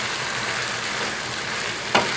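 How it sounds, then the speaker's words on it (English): Sambal cooking in a pan with tamarind pulp, sugar and onions, giving a steady close sizzle as it is stirred, with one brief sharper scrape near the end; no one talks. "And I'm going to stir this sambal."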